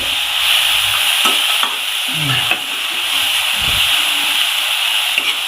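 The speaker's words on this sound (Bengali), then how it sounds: "এবার এটা একটু নাড়াচাড়া করে জল দেব।" Pumpkin with salt and a little turmeric stirred and fried in a pan for a Bengali kumro ghonto: a steady loud hiss of frying runs throughout, with occasional scrapes and knocks of the spoon, no talking.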